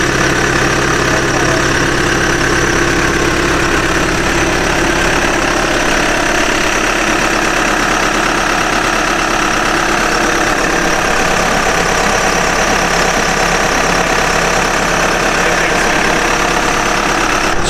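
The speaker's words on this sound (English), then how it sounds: "we have the backhoe out" A backhoe engine idles at a log cabin deck renovation site, a steady, loud mechanical rumble and drone that continues without a break, with no voices.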